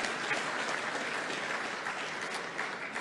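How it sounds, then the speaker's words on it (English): Audience at a health summit applauds steadily, a dense, even wash of clapping from many hands that holds at a constant level throughout. "Let's applaud it one more time."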